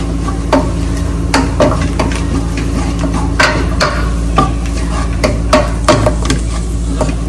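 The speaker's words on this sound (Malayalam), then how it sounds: "അത് ലോ ഫ്ലെയിമിൽ നമ്മൾ വഴറ്റിയെടുക്കണം" Garam masala, spices and tomato paste for a homestyle paneer masala sauté in a pan over a low flame, with a steady sizzle under repeated scraping stirs of a spoon against the pan. No one speaks.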